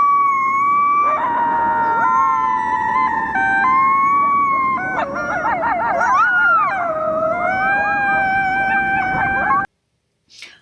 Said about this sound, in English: Although that sounded like a bunch of coyotes, it was only 2 coyotes.